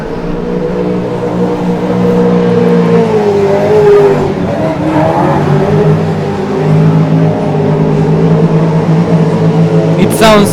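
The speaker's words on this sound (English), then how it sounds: "The engine sounds really powerful." A drift race car with a V8 naturally aspirated engine at a qualifying round in Sochi, loud sustained engine drone rising and falling with revving, a commentator talking over it.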